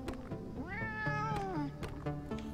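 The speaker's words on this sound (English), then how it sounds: "There are feral cats seemingly guarding the door." Feral cats in the game Sense: A Cyberpunk Ghost Story, one giving a drawn-out, rising and falling meow over a low steady background, with a few short clicks around it and no talk.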